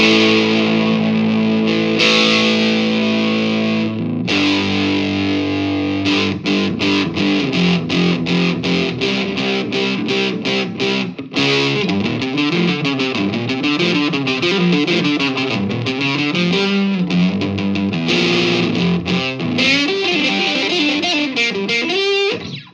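Electric guitar through an Orange O Tone 40 amp with the gain turned up and volume down, loud distorted chords and riffs played continuously without talking.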